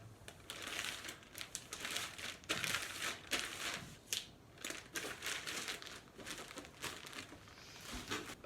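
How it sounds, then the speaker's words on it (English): Priority mail stickers go onto a packaged Universal Standard clothing item, with close, repeated crinkling and rustling of the plastic mailer in short bursts and no talking. "I'm gonna ship out this Universal Standard, put some priority mail stickers on it"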